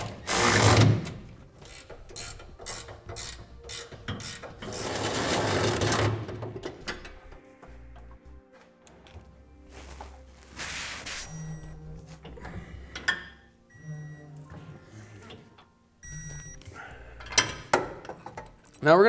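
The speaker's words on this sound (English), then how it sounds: "we'll snug down the hardware in our center section and then get it torqued to specification" Tools snug and torque the hardware of a B&W fifth wheel trailer hitch on a 2015 Chevrolet Silverado: bursts of whirring power-tool ratcheting and metallic clicks come in several spurts, with quieter clinks and pauses between them.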